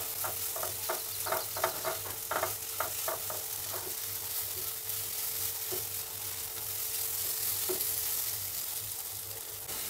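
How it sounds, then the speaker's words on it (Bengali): Paneer masala is sautéed in oil in a pan, giving a steady moderate sizzle with a run of quick spatula taps early on, then a smoother, even frying hiss. No talking. "ভাজতে হবে। তো ভালো করে কষাতে হবে।"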